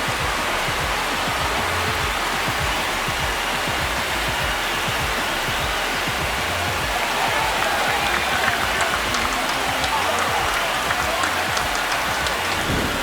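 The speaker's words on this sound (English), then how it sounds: "This crowd has really come alive. This place is loud." Dense, continuous roar of a stadium crowd cheering in the baseball video game MLB The Show 26, Blue Jays vs Yankees, steady and loud throughout with no breaks.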